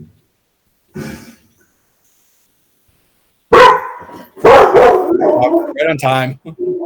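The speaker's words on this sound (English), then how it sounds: "Okay, that's a dog." A dog barks loudly and close by, a burst of sharp barks after a quiet stretch, with people talking around and over it.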